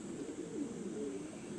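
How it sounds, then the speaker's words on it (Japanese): Pigeons at their loft coo in soft, low, wavering calls over a constant outdoor hum. "鳩が今一部帰ってきました。"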